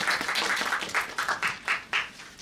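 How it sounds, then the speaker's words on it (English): An interview-session audience at a Japanese artist event claps in a short burst, with separate claps standing out in an uneven rhythm over a couple of seconds. "Could we get a round of applause for"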